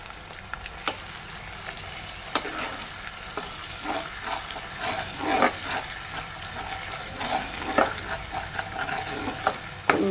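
Ginger garlic paste fries in hot oil in a pan while being stirred for a fish curry, a soft continuous sizzle broken by sharp scraping clicks of the spoon against the pan at irregular intervals, close and alone.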